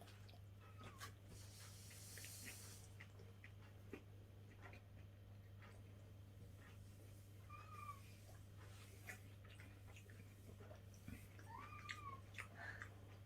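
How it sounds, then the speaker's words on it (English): A cat meows a few times near a meal of tinned chicken pie, the short rising calls faint and scattered over a steady low hum and light room noise. "Cat can smell food, obviously."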